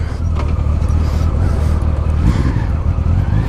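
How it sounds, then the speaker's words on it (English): Steady low engine drone from a 2000 Honda Valkyrie Interstate six-cylinder motorcycle while riding, continuous and loud with wind rush and no pauses. "I got a 6-cylinder on my motorcycle."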